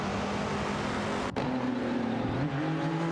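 Racing engines from a Ferrari 275 GTB/C and a Porsche 904 in a video game race drone steadily, with a sustained engine tone that briefly cuts out near the middle and then shifts pitch as the cars carry on.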